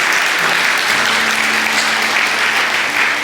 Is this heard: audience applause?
yes